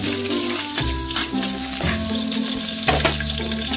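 Garlic and onion sauté loudly in a pan for chicken tinola, a dense close sizzle with a few stirring knocks and shifting tones, no voices.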